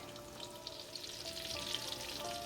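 Breaded chicken parmesan cutlets fry in a pan of hot oil, giving a steady, close, continuous sizzle with fine crackling and no talking.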